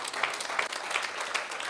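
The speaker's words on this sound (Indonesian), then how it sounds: "Tepuk tangan yang keras." Loud applause from a church congregation during an online midweek service, a dense steady wash of clapping with a few sharper claps standing out.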